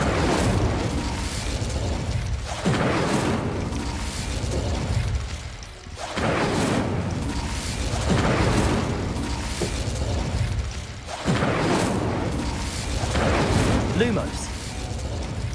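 Repeated booming fire-spell blasts from the Hogwarts Legacy video game burst out every few seconds, each a loud whoosh and rumble that swells and fades, with overlapping game effects.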